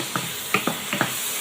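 Salted, turmeric-dusted shrimp sizzle steadily in a pan in a home kitchen while a spatula scrapes and taps the pan four or five times in quick succession.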